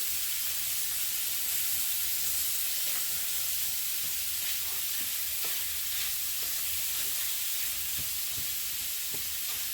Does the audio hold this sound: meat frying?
yes